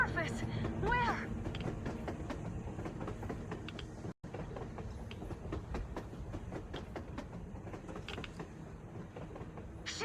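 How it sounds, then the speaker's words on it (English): A train rolls past in the video game Metro Exodus, with creaking metal and clattering wheels sustained throughout at steady loudness, while people talk over it. "A train! A damn train on the surface!"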